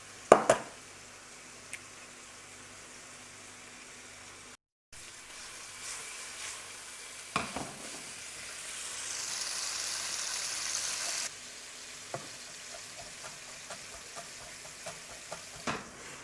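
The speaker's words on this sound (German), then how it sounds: "Der Speck ist in der Pfanne" Bacon fries in a pan for spaghetti carbonara, a low, steady sizzle close by, with occasional clinks and scrapes of stirring and a brief pause partway through.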